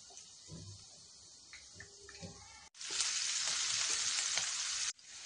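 Cumin seeds dropped into hot oil in a pan for tomato rice, with quiet crackles first and then a sudden loud, bright sizzle that holds for about two seconds before cutting off.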